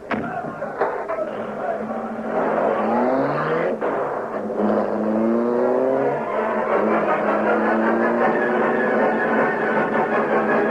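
Radio-drama sound effect of the Black Beauty, a car, driving off: a steady engine roar with rising revs fills the whole stretch, loud and close, with voices talking over it early on.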